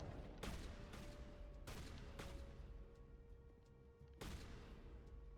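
Wrex's shotgun in the video game Mass Effect booms in several loud, close blasts spaced irregularly over a steady din of combat background noise, with a sustained tone ringing beneath.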